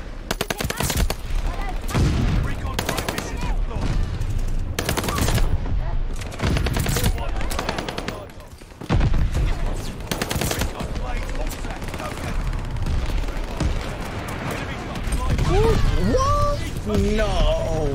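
Enemy gunfire in the Vanguard game crackles in loud, repeated bursts of rapid automatic shots, broken by short gaps, with someone talking over and between the volleys.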